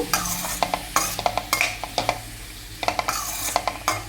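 Onions frying for mandakki oggarane are stirred in a pan, a spoon repeatedly scraping and knocking against the metal in irregular bursts over a low steady sizzle, close and fairly loud with no talking.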